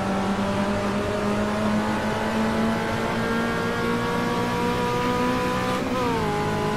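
A rear-engined Volkswagen Beetle in the racing sim Automobilista drones steadily as its engine pitch climbs under acceleration, then drops sharply near the end as a gear changes, loud and close.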